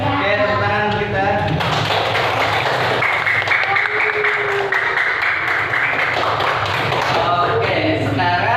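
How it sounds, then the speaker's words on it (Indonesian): Schoolchildren in a classroom clap together after answering a question correctly, a dense, steady applause that swells after the teacher speaks and continues for several seconds, with voices mixed in. "Oke, tepuk tangan kita."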